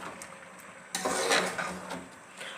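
A spoon stirring fresh cream into carrot halwa in a pan, producing a soft scrape followed by a louder burst of utensil-on-metal clatter and thick mixing.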